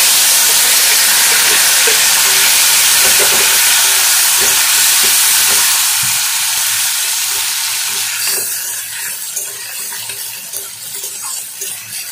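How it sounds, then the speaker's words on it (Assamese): Onions added to hot oil left from frying eggplant sizzle loudly in a pan, a dense steady hiss that gradually eases and thins out toward the end. "বেঙেনা ফ্ৰাই কৰা তেলখিনিতে মই এতিয়া পিঁয়াজ দি দিলোঁ।"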